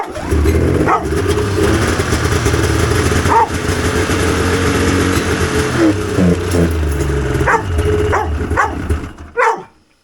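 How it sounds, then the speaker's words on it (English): A vintage Polaris RXL snowmobile engine chugs loudly and runs steadily for several seconds on a test start with fuel injection trouble, then cuts out, with occasional dog barks over it. "We got at least one injector firing."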